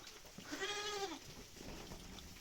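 A ginger nanny goat gives one clear, wavering bleat at close range, then quieter shuffling follows in a farmyard.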